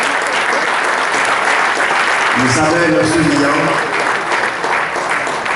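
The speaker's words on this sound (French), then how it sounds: "Applaudissez s'il vous plaît." A gala audience at a church's 85th anniversary celebration in Haiti applauds to welcome a bishop, continuous clapping with someone speaking briefly over it midway.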